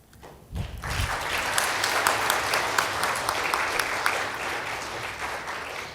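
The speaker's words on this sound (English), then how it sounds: "Second round of applause." After a brief quiet moment and a low thump, the audience at an HR conclave breaks into sustained clapping. It swells quickly and holds steady and fairly loud, with individual sharp claps standing out, and it continues to the end.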